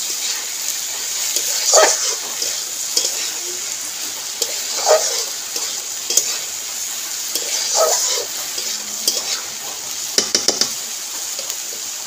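Dal with spices frying in a pan, a steady close sizzle with scraping stirs of a spoon against the pan at irregular intervals, with no talk.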